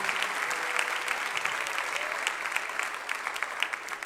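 A church congregation applauds the preacher during a Brazilian evangelical service, with dense, steady clapping from many people filling the hall throughout.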